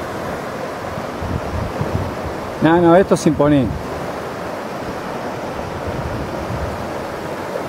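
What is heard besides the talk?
glacial meltwater river flowing over rocks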